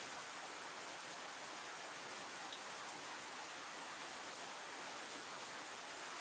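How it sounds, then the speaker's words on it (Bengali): Heavy rain pours down in a steady, dense hiss that holds unchanged throughout, heard from a cycle garage near a station with no voices over it. "প্রচুর বৃষ্টি হচ্ছে"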